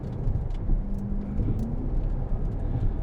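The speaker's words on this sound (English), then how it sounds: "You have that V8 rumble in the background that you can hear, and then up front, you've got the electric motor adding this whole other like alien spaceship" Chevrolet Corvette E-Ray hybrid on a race track: a steady, loud V8 rumble drones throughout, with a thin electric-motor whine from the front axle rising faintly over it.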